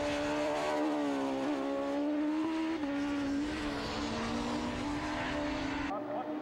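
Racing motorcycles on a public road course heading across a mountain section, their engines a loud, sustained high-revving whine whose pitch wavers slightly as the bikes push on at speed.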